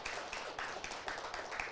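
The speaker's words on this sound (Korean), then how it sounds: "우리 함께 박수하겠습니다." Church congregation clapping during a Sunday service after a child's baptism, a steady patter of many hands that stays fairly soft and even throughout.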